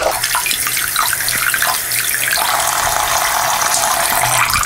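Tap water gushes steadily into a sink as penny board skateboard parts are washed, a loud, continuous close-up splash with small clinks of parts moving under the stream.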